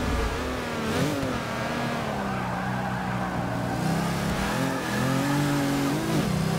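A racing car engine drones and revs continuously in Forza 6, with rising and falling pitch as it accelerates through gear changes, loud and steady throughout.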